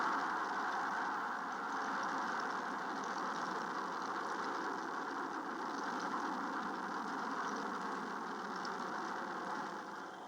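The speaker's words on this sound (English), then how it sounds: "Engine start. We have a liftoff." Rocket engines roar at liftoff of a Gemini launch, a continuous dense broadband rumble held at steady loudness for ten seconds without voices.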